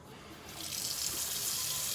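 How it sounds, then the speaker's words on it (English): Water runs steadily from a sink faucet at a hand-washing basin, a soft continuous hiss that swells slightly after the tap opens, heard alone at low level. "let's turn on the water."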